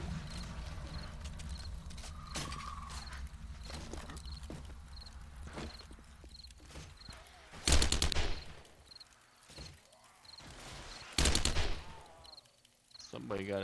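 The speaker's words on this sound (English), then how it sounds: "Somebody got an SMG out." Submachine gun fire in the video game 7 Days to Die comes as two short, loud rattling bursts several seconds apart, set against a quieter backdrop of regular ticking and scattered thuds.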